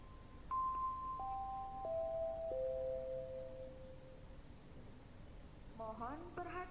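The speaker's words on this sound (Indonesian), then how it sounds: "bel tanda masuk telah berbunyi" A school entry bell sounds as a chime of four descending electronic tones, each held and fading, followed by a brief burst of higher bell notes near the end over faint background hum.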